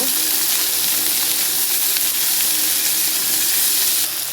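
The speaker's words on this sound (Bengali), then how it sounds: "ওগুলো সব দিয়ে দিচ্ছি এবার এটাকে আমি নাড়াচাড়া করে নেব" Diced carrots, peas and spring onion sizzle and hiss steadily in a pan while being stirred for Bengali-style semolina upma, a loud, close, continuous fry with no talking.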